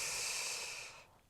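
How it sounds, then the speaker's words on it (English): A single deep, slow exhalation hisses out close and soft, fading away over about a second in a quiet room. "have a deeper exhalation."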